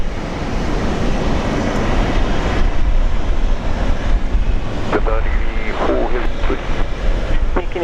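An Alliance airliner departs runway 01 left at Brisbane International Airport, a loud broadband jet roar sustained throughout, with talk breaking in over it toward the end.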